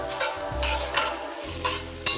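Celery, carrots, shallots and onions going into a cast-iron pot and being stirred, a soft sizzle under scraping and clattering stir sounds, close up, with no voices.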